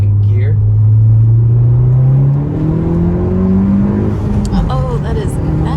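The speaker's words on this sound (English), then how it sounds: "I'll give it some full throttle here in a second." A 2020 Honda Civic Si fitted with a TSP Stage 1 kit accelerates at full throttle, its engine note rising steadily and loudly from inside the cabin, then dropping briefly at a gear change before climbing again.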